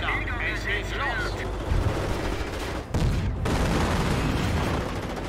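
Gunfire rages in a World War II battle in the game Company of Heroes: dense, continuous bursts of shots and heavy booms that stay loud throughout, with a voice shouting briefly near the start.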